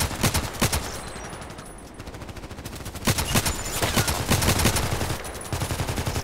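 Rapid, loud gunfire from the Contract Wars shooter game rattles in repeated bursts of sharp shots, with brief lulls between volleys and no talking.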